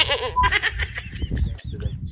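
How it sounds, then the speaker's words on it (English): Goats bleat close by in a few short, wavering cries, one right at the start and more overlapping, mixed with shuffling and snorting noises. "All right, so we're hanging out with the goats."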